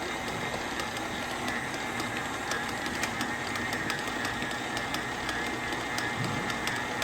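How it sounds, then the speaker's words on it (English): KitchenAid stand mixer kneading yeast roll dough, a steady mechanical whir with a rhythmic ticking knock running evenly throughout, close and uninterrupted with no voices. "I'm going to let my KitchenAid do all the work"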